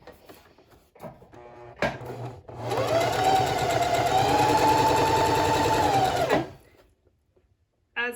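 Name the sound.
sewing machine stitching a fabric mask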